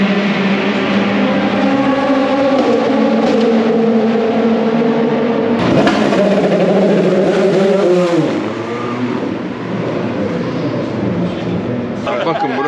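Toyota and Ferrari race cars in a long endurance race howl past with a sustained, loud engine roar that swells and fades, under steady talk throughout.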